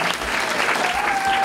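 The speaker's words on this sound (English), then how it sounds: "How about a nice round of applause for Bethany and Debbie for putting this all together?" A brief burst of audience applause at a senior variety show, steady and fairly loud, with faint tonal whistles or feedback lines over the clapping.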